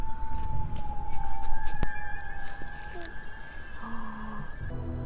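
Siren wail from the Siren Head monster in an animated horror film: sustained electronic tones hold and shift in pitch over a noisy background, with a sharp click partway through and a lower tone entering near the end.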